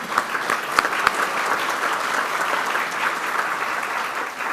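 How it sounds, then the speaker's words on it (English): A room of Rotary club members claps to welcome guests at a meeting, a dense, even burst of applause heard up close. "So let's welcome them with a round of applause."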